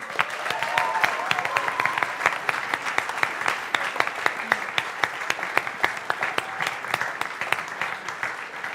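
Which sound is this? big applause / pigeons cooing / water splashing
big applause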